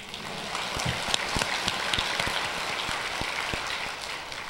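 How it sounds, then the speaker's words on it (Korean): A church congregation claps steadily during a Sunday sermon, with dense overlapping hand claps and a few sharper individual claps standing out, no voices on top. "고개 숙여서 박수 치면서"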